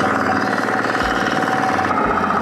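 Mini four-wheel tractor FTI2010DE III diesel engine running steadily, a close, loud, chugging rumble with a rhythmic knock and two brief dips in the low thump, no talking over it.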